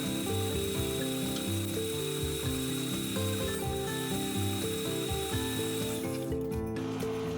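Electric mixer on low beating cake batter for a Spanish orange cake, a steady close motor whir with a rhythmic rattling pulse, running continuously until it cuts off near the end.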